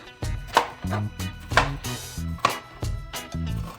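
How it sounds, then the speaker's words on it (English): Bell peppers are rough-chopped with a knife on a cutting board for Haitian epis seasoning, a series of close, sharp chops at an uneven rhythm over quiet background music. "now I'm gonna give my bell peppers a rough chop"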